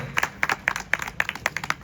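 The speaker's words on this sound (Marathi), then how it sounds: "आपण त्यांचं टाळ्या वाजून स्वागत करूया" A small audience at a guru remembrance award ceremony claps briefly and unevenly to welcome a guest, with distinct separate hand claps rather than a full roar of applause.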